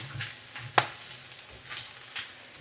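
Onion, tomato and rice frying in a Teflon pan that has started sticking: a faint, steady sizzle broken by soft stirring scrapes and one sharp click, with no talk.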